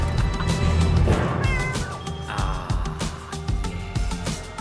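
A barn cat meows repeatedly in a string of close, loud, wavering cries, some stretched into drawn-out yowls, with no talk.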